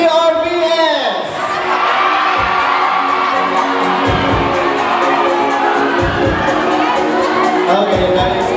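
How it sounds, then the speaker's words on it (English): A pageant crowd in Cabadbaran City cheers and shouts for the top five finalists in a loud, dense roar, with high whoops rising over it and bursts of clapping and thuds scattered through. "ladies and gentlemen, let's give our top 5 ladies a big, big round of applause."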